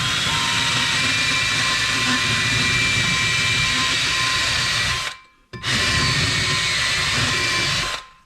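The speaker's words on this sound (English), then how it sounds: "And then what I do is I take a Dremel bit, and for this slot here" A Dremel rotary tool bit re-chamfering a slot during maintenance on a Ford Excursion 7.3, giving a loud, steady high-pitched whine that cuts out briefly and then resumes, running alone without talk.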